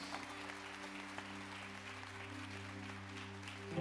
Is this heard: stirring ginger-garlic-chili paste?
no